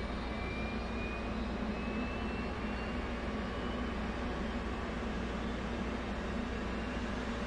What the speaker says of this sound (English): Then we'll give the plane captain or PC the signal to start up the APU.